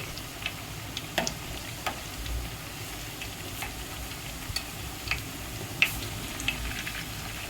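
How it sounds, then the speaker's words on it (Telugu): Garelu, Telugu lentil fritters, frying in hot oil in a home kitchen: a soft, continuous sizzle with scattered small pops and ticks, close and fairly quiet, with no talking. "ఆయిల్లో స్వైర విహారం చేస్తున్నాయి గారెలు"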